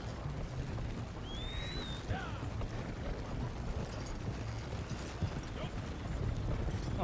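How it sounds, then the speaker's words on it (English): A moonshine wagon rolls along in the video game Red Dead Online, with a steady mechanical rattle and creak and faint hoof clopping over a constant low rumble, plus one brief high whistle early on. "Sure, you can jump on the side of the moonshine wagon"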